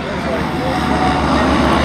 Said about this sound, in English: So that is our plane.